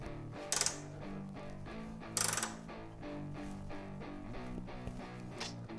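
A ratchet snugs down the front strut bar bolts on a 2019-or-later Toyota RAV4 XA50 with a Tom's bar, clicking in a quick, even run punctuated by two louder bursts.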